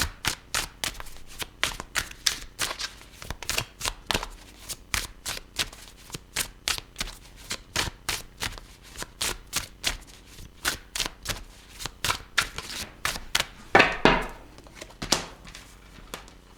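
Tarot cards are shuffled by hand in a steady, rapid patter of crisp riffling snaps, close and clear, with a brief louder flurry near the end.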